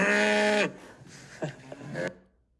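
A cow on a dairy farm gives a loud, close, drawn-out moo that cuts off abruptly, followed by quieter shuffling and thumps in the barn.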